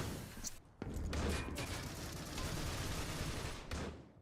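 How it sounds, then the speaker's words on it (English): Gunfire in a shooter video game: dense, sustained rattling bursts of shots with brief gaps, loud and continuous over a busy background. "Lots of shots going down, none connecting thus far."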